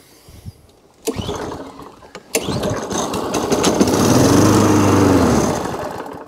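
A small lawn mower engine is pull-started: a few sharp pulls and clatters, then it fires and runs roughly with an uneven, sputtering drone that swells loudly before faltering, close to the listener.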